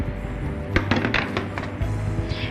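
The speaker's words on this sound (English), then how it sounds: "Close the lid" The lid of a Noxxa electric pressure cooker is closed with a few close, sharp clinks and clatters over a couple of seconds, set against soft background music.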